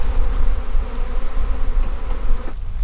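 A dense, steady buzzing of many honey bees at close range in a bee yard, continuous and loud without a break.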